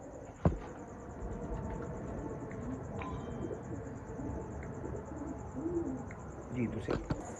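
Laal Pari pigeons coo in soft, rounded calls that grow clearer toward the end, faint against a noisy background with a steady high whine and a sharp knock near the start.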